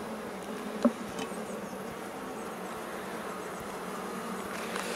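Honeybees from a small, calm colony with its queen buzz in a steady, soft, dense drone close by, with no voices and only a single faint tap.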